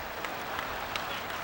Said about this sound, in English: Ultimately, those are the parents applauding.